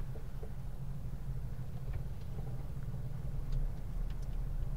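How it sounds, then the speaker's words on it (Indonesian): Steady low rumble of idling cars and motorbikes stuck in a traffic jam at a red light in Trusmi, Cirebon, on the Pantura road, with faint engine noise and no talk. "Kita tersendat macet di lampu merah dunia terbatik Trusmi"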